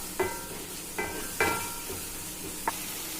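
Curry leaves sautéing in dried fish thokku, with a few separate scrapes and stirs of a spoon against the pan over a soft sizzle, close and fairly quiet.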